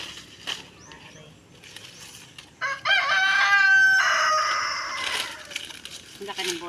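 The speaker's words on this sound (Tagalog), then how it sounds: "Ang laki ng boses ng manok." A rooster crows loudly and close by, one long rising and falling call, with faint background noise and a few soft clucks around it.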